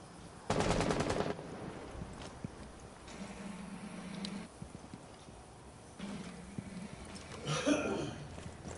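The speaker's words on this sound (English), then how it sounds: "I heard somebody shoot" A rapid burst of automatic gunfire rattles out early in a Rainbow Six Siege match, followed by fainter scattered shots and thumps, with a voice speaking briefly near the end.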